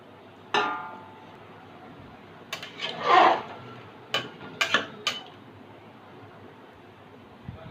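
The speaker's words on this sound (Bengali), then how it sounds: "আবার ঢাকনাটা লাগিয়ে দিলাম।" A metal pressure cooker lid goes back on over a pot of young goat meat curry with potatoes: a handful of sharp, close clanks and scrapes spread across several seconds, separated by quiet.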